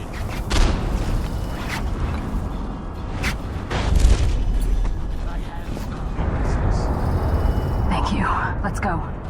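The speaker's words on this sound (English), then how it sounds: "Explosion!" A grenade goes off in the video game Dishonored: The Knife of Dunwall, giving dull, low booms amid rumbling game ambience, with voices murmuring underneath.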